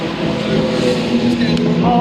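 A blue BMW F80 drives on the Donington Park circuit during a track day, a steady droning engine note close by, with a person talking over it.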